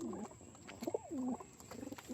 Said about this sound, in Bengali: কারোর যদি পছন্দ হয় তাহলে পায়রা আপনারা নিতে পারেন